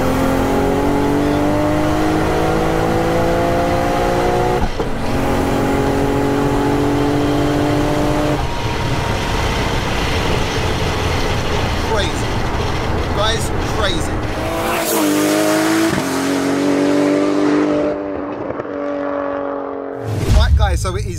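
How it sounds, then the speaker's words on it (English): A 955bhp Nissan R33 GTR with a sequential gearbox accelerates hard, its intake and exhaust roaring loud and close through rising revs with gear-change breaks, while people talk over it. "the noises you're getting from the intake, the exhaust, that just, it's just, it's crazy"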